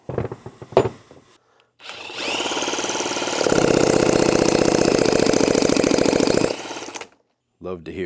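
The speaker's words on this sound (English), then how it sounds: "Love to hear two-stroke compression." Two-stroke engine of a 2007 Honda CR85RB being turned over by hand to check compression, a rhythmic chuffing pulse that grows stronger for a few seconds, with brief clunks before and after.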